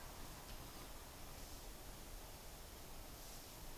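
Steady, faint white noise for a Ganzfeld experiment hisses evenly and unchanging throughout, alone without voices.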